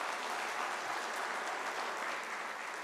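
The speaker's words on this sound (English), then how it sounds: "Can I request you to give yourself a round of applause?" Attendees at a workplace safety and health observance giving a round of applause, a steady, even spread of many hands clapping throughout, somewhat distant and not loud.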